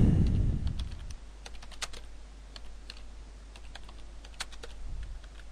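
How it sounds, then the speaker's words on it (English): Someone types on a computer keyboard, a run of light, irregular clicking keystrokes close by against a low hum, with a brief rumble at the start. "So I'll just type that in just now."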